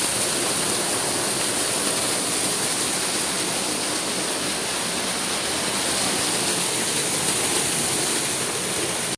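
A village waterfall roars without a break, a dense, loud, steady rush of flowing water close by that fills the whole stretch, with no voices over it.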